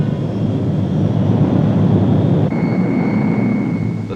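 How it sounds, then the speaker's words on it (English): A Navy Lockheed C-130 Hercules flies overhead on an Antarctic resupply run, its engine drone a loud, steady rumble that holds unbroken throughout. "The C-130 Hercules, newest and most versatile addition to the Navy's air fleet"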